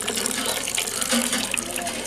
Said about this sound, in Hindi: हमारा मुँह धो ले